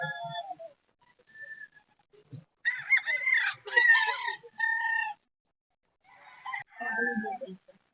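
Roosters at a fowl market crowing in drawn-out, wavering calls, several bursts separated by quiet gaps, with short clucks and a faint voice in between.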